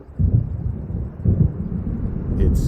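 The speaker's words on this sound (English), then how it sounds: "It seems there's a storm coming." Deep rolling thunder from an approaching storm over the lake in Alan Wake Remastered, in two or three low, heavy rumbles with a brief hiss at the very end.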